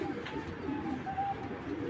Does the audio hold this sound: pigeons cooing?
yes